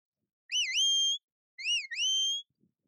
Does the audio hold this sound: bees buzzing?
no